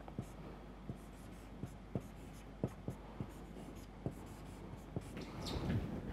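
Hand writing while solving eigenvalue math with Jacobi's method: a pen or chalk taps and scratches in a steady run of short strokes close by, over quiet room tone.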